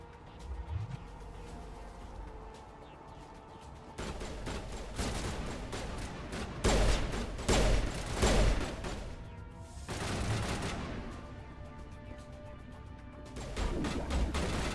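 Gunfire from the video game Mass Effect as enemies in a line are fired on, with dense bursts and volleys of shots rising and falling in loudness over a steady game backdrop.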